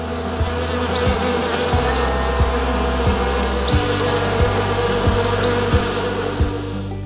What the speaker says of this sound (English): The Insect Hotel and especially the bees